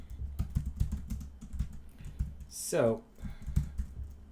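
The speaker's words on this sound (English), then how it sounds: "I guess I'm going to have to manually type some of this out" Clicky computer keyboard typing taps out in quick, uneven bursts close by, with a brief spoken word and a short rising chirp partway through.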